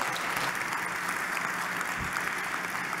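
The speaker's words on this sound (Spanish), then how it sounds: "un aplauso a ustedes" Audience applause following a presentation on IPv6 at a Telecom Argentina event, a steady dense wash of many hands clapping throughout, fairly loud and without talk.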